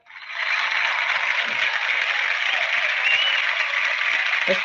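Sustained applause-like clapping, dense and steady for several seconds after a quick rise, sounding like a canned hand-claps effect played on request during a comedic Baltimore bit.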